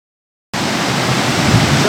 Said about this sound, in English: So this is Chilnawana Creek in Yosemite National Park.